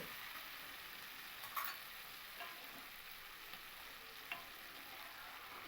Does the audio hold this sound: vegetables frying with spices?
yes